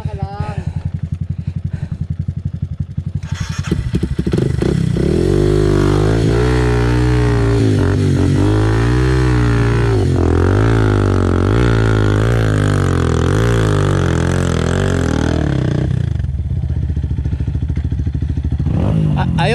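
A motorcycle engine strains uphill on a red dirt mountain trail, revving loudly and unevenly with rising and falling pitch as it labors, up close, while people talk and shout instructions over it.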